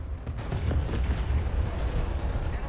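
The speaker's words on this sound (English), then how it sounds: "I actually shot him with the main gun and it bounced off the turret" Tank main gun firing in War Thunder, a dense burst of loud booming blasts over a rumbling low battle din, with no talk.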